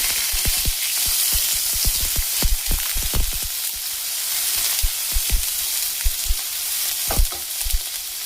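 Onion hitting hot oil already seasoned with cumin seeds and two bay leaves, a steady close sizzle broken by frequent clicks and scrapes of stirring, with no talking.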